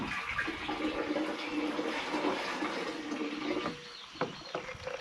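Herbicide mix poured into a sprayer tank for pasture weed control, a steady close splashing gush of liquid that slackens near the end, with a few faint clinks.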